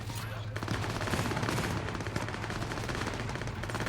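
Rapid sustained gunfire from security guards in Cyberpunk 2077, dense overlapping automatic bursts firing continuously and loudly throughout, with a faint voice briefly underneath.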